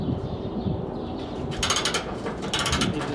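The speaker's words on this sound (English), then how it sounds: "if I will put my ratchet in, and of course I have to hold it from the top." A ratchet turning a rusty car headlight mounting bolt, giving bursts of rapid clicking close up against a steady background hum.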